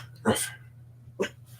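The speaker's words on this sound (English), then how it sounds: "Yeah, doggies are acting up out there, aren't they?" Dogs outdoors give two short barks about a second apart. Both are somewhat muffled and distant over a low steady hum.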